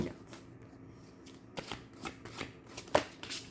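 A deck of playing cards being shuffled by hand, several quick riffling bursts close by, with softer handling noise between them.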